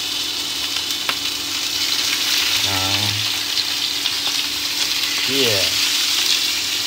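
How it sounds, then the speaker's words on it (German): Skin-on fish fries in garlic-infused oil, a loud, steady sizzle filling the whole stretch, with someone speaking briefly over it. "Jetzt tue ich mal Fisch rein. Die Haut muss drauf sein."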